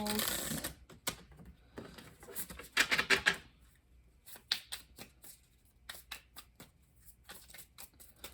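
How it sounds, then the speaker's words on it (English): Repeated riffling bursts of a card deck being shuffled, some short and some drawn out, with brief quiet gaps between. "But I'm going to do a couple shuffles."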